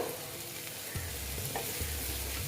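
Onions frying in a pan for a spicy Bengali boal fish curry, a steady broadband sizzle with a few stirring scrapes, close and fairly quiet throughout with no talk.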